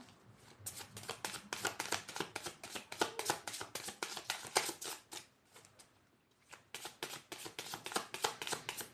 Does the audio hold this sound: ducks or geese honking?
no